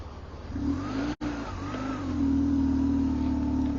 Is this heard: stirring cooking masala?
no